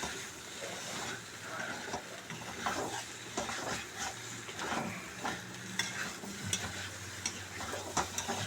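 Chicken curry is stirred in a hot pan, the spoon scraping in irregular strokes over a soft, continuous sizzle of frying, close up with no talking.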